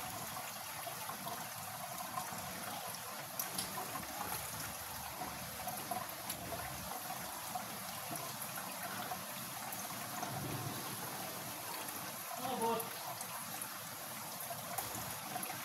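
Water flowing out outdoors, a faint continuous trickling stream with a steady soft wash and no voices over it.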